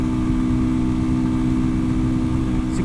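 A motorcycle engine holds a steady, loud drone at high revs during a downhill top-speed run, with constant wind rush and no breaks in the sound.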